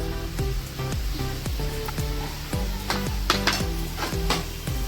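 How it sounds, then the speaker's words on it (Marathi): A spoon scrapes and stirs bottle gourd halwa with milk in a pan, a steady rhythm of roughly two strokes per second, each a short clink and scrape, over a soft sizzle, close and moderately quiet. "हलवून घेऊया व्यवस्थित।"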